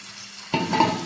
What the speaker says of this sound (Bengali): পটলগুলো দেওয়ার পরে একটুখানি নাড়াচাড়া করে নেব।